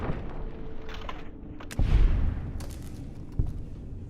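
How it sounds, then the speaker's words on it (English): Distant gunfire in Fallout: New Vegas, a few scattered booming shots over a busy, rumbling game soundscape, one heavier blast near the middle and another sharp report toward the end. "I'm just hearing gunshots."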